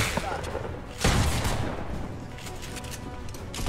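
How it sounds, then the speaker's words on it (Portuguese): Gunshots in a video game: a loud, sharp burst of fire and several smaller, quicker shots crackle across the moment, mixed with background voices. "Acho que o tiro acertou no Alan, o tiro que o moleque deu"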